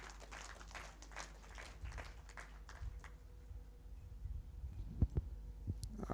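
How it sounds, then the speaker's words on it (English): Scattered applause from a conference audience at the close of a regional ministerial higher education meeting, a brief uneven patter of hands in a hall, fading to sparse claps and a few knocks. "I think our chairperson deserves a bigger clap than that"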